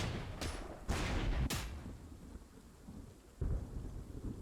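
Rain and thunder from the video game Panzer Corps during a rain turn: a steady wash of rain with several heavy thunder crashes rolling in, alone with no talk.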